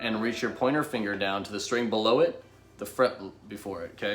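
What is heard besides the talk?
None of the usual background noises is heard.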